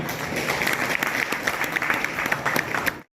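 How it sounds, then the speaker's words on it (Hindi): Applause at a Bar Association oath ceremony in Agra, a continuous, energetic crowd clapping that stays loud and even before cutting off abruptly at the end. "तालियां बजती रहनी चाहिए।"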